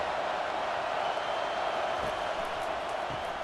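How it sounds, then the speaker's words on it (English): Steady, dense crowd roar from a large stadium in EA Sports College Football 25, USC Trojans vs Michigan Wolverines, constant and fairly loud throughout with no clear voices standing out. "This crowd bringing the energy and noise early."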